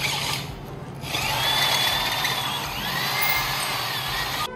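A power drill re-drills holes on a double-decker Jeep, whining loudly and steadily at close range with a brief dip in pitch, over faint background noise.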